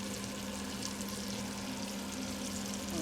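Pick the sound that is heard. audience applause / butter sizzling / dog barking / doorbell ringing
butter sizzling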